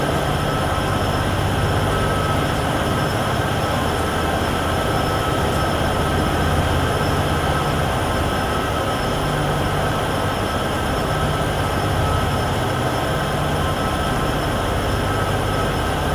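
Diesel locomotive on the Cheyenne to Laramie line in Train Sim World 6 drones steadily with a low engine rumble and constant rail noise, heard from outside in a windswept setting, loud and unbroken with no talk.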